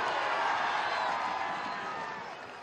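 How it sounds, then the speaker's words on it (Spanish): A crowd at a Venezuelan state ceremony honouring Ezequiel Zamora applauds and cheers for the children, a bright, sustained wall of clapping that slowly fades toward the end. "Vamos a darle un aplauso a los niños de la patria"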